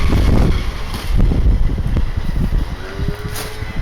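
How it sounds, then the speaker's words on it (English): Wind blows outdoors, buffeting the microphone with loud rumbling gusts that rise and fall, with a faint rustle beneath. "the wind's picked up a bit"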